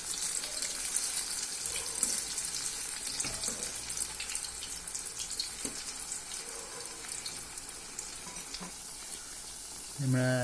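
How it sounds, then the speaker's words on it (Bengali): Cabbage and chickpea lentil fritters fry in oil, flipped to cook the second side, giving a steady close crackling sizzle throughout with occasional sharper pops and a louder burst of spitting near the end. "আমরা আরেকটা সাইডে ভেজে নিচ্ছি।"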